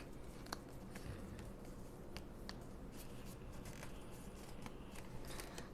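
Paper is folded by hand to make a paper airplane, giving quiet crisp crinkles and short creasing scrapes at close range, irregular and faint against a low background hum, with no talking.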